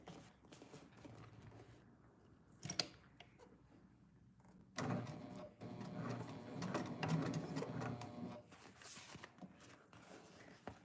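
A home sewing machine runs top stitching at stitch length 5; quiet handling gives way to a steady, fairly close mechanical whir in runs.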